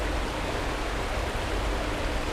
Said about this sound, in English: you have the running water here in front, and this creek that shoots down